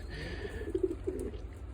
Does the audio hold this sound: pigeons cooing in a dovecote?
yes